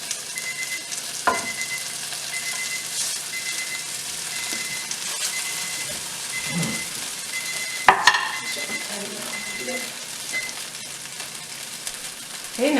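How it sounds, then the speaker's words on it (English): Spiralized potato vegetable noodles sauteing in butter in a pan, a steady close sizzle and fry with occasional stirring scrapes and a brief clatter of a utensil against the pan. "now I just saute this up till I get a nice bit of crisp to them"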